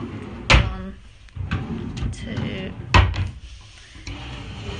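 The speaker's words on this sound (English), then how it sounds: "the drawers are right here" Wooden desk drawers in a student accommodation room sliding open and bumping shut, two sharp knocks with softer rattles and scrapes between them, while a person talks nearby.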